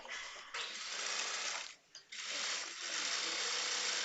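A sewing machine stitches a blouse in a rapid, continuous mechanical whir. It breaks off briefly in the middle and then runs on steadily at close range.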